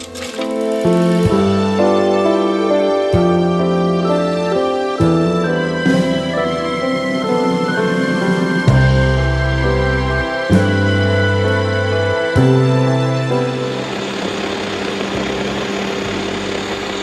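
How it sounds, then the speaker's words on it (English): A kitchen blender grinds soaked moong dal with fenugreek seeds and water, a loud continuous motor whir that shifts pitch in several stages as the speed changes, heard alone without talk. "transfer to a blender."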